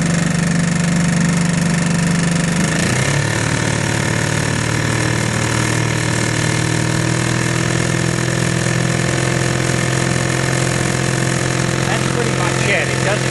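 A 1941 Evinrude Handitwin antique outboard motor runs steadily at one speed with a poppet-valve drone, its pitch dropping slightly early on, then holding a loud continuous buzzing hum throughout.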